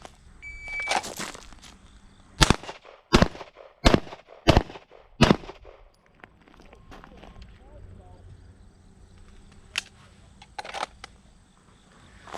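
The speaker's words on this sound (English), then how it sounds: "Now I'm going to be firing 5 rounds kneeling, and I have 15 seconds." Handgun shots on a law enforcement qualification range, a first burst fired kneeling followed by several sharp, evenly spaced loud reports, then quieter movement and two more distant shots.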